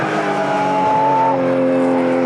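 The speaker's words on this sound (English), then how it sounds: "This is the Cup S version of the Porsche." A Porsche 911 GT3 Cup S race car howls along Sydney Motorsport Park in a 2011 Australian GT Championship race, its loud, high engine note climbing steadily before a shift drops the pitch.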